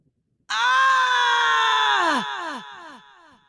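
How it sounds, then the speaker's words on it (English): A male anime-style yell from the character Musashi in a Musashi series video game, one loud sustained scream lasting about two seconds that breaks off, followed by a few fading echoes. "and then he does the anime yell"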